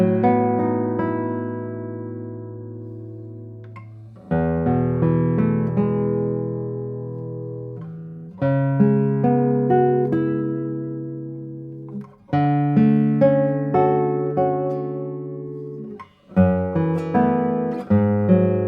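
Spruce-top Siccas doubletop classical guitar played solo, plucked chords and melodic notes in phrases separated by short pauses, each note ringing out clearly and decaying.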